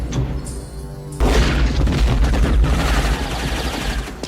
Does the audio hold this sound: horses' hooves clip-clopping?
no